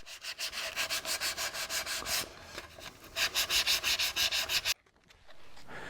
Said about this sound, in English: I have to do some additional sanding repair work by dropping back to a 150 grit